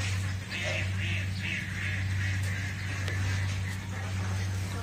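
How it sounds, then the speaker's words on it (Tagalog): Ducks quacking outdoors near rice fields, heard as a repeated chorus of quacks over a loud steady hum, with a voice speaking over them. "Ingay-ingay ng mga itik dyan sa labas."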